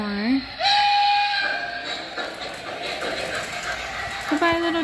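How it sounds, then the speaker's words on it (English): A little train passes near the Kinzua Bridge, its rumble and hiss steady, with whistle-like tones near the start and again at the end, under people talking. "Goodbye, little train."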